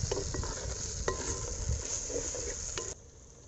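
Onion and tomato fry in a pan for village-style country chicken biryani, a steady close sizzle with scraping stirs and small clinks, then the frying quiets suddenly near the end; no talk.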